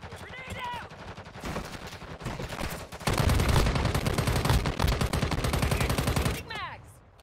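Gunfire in the mobile shooter Call of Duty: Warzone Mobile, with rapid automatic bursts that grow heavier and denser in the middle, while players talk over the shooting.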